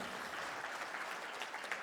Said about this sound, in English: A round of applause from him.